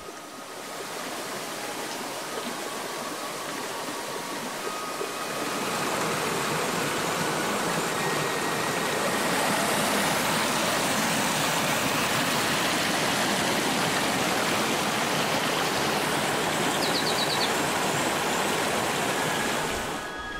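Spring-fed mountain stream near Chiguirip in Chota, Peru, rushing steadily over stones: a broad continuous watery roar, close and loud, swelling slightly after the first few seconds and holding even to the end.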